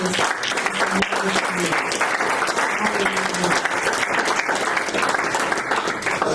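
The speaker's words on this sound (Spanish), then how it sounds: "Y de un fuerte aplauso al Rey de Reyes." A church congregation gives loud, sustained applause for the King of Kings at a Christmas service, dense steady clapping from a crowd filling the whole stretch, with faint voices mixed in.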